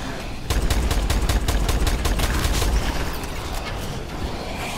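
Rapid gunfire from a heavy gun in Call of Duty: Advanced Warfare Exo Zombies, a loud sustained burst of rattling shots that starts abruptly and keeps a steady fast rhythm, close and dense with booming low end.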